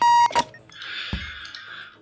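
Electronic alarm beeping from a bomb in the game Keep Talking and Nobody Explodes: a loud, steady tone at the start cut off by a short blip, then a quiet sustained buzzy tone with a soft thump midway.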